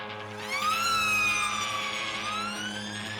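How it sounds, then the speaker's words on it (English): A rising and falling siren wail, like a toy siren, sweeps up and down over a steady musical backing with low sustained tones, in a track from a Swedish band's album. "Sounds like a toy siren."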